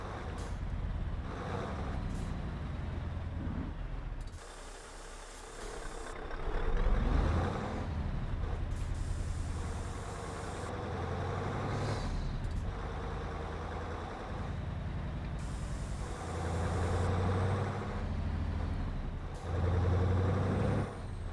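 Truck air suspension venting air in repeated hissing bursts over an idling diesel engine, the releases coming close and loud at intervals.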